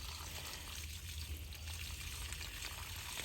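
Water mixed with fertilizer poured from a container onto a small hydrangea bush in a garden, a soft, steady trickling splash heard close and quiet, with no talk.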